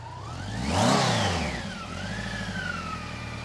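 A 1988 BMW K100RS motorcycle engine revs up hard, peaking loud near the start, then settles into a steady hum with a high mechanical whine rising and falling above it, close by with no talk.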